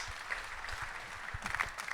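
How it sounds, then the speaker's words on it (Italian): An audience applauds at a mountaineering talk in Pordenone, quiet, fairly distant clapping spread through the room, with low rumbling noise underneath and a few sharper claps toward the end. "Applauso."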